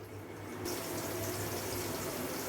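Water pours steadily into a pot of rice being washed for chicken biryani, a continuous close splashing flow that swells after the first half second and holds without talk.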